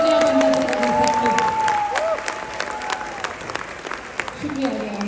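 Audience applause at a seminar breaks out and fades over a few seconds, a crowd clapping with a voice speaking over it.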